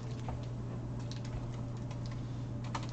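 Fingers type on a computer keyboard in a constant run of soft clicking keystrokes, over a steady low electrical hum.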